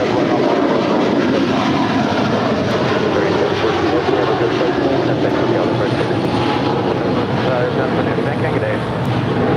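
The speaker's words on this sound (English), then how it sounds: "That is United Airlines Flight 1877 coming in from Houston" A United Airlines Boeing 777-200ER arriving at LAX from Houston, its engines giving a loud, steady, broadband roar that holds throughout without a break.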